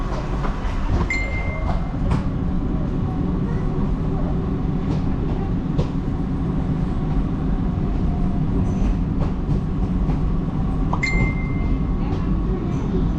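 An MRT metro train running in Malaysia between Bukit Bintang and Sungai Buloh, with a loud, steady rumble of wheels on track, occasional clicks and brief squeals, heard from inside the carriage.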